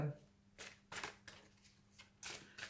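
Tarot cards from an Akashic records deck are shuffled and riffled in several quick, close bursts, each a crisp papery flutter over a quiet room.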